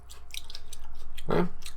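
Close, steady chewing of a Mexican-style taco topped with crunchy cabbage, with wet rhythmic mastication and one louder crunchy bite near the end.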